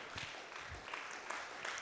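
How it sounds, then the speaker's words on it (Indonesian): Church congregation at a Sunday service in BSD applauding in praise: a soft, steady wash of clapping, faint and distant, running throughout without pause. "Tepuk tangan buat Tuhan."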